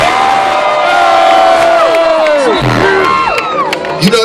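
A concert crowd roars loudly and continuously, a dense wall of cheering and shouting with whoops, as the rapper's voice carries over it before dropping away.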